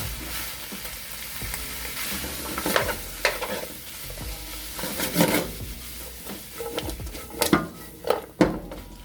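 Onion and garlic stir-fry in a hot pan for smoked duck, giving a steady sizzle broken by close, irregular scraping and clatter as a utensil stirs them.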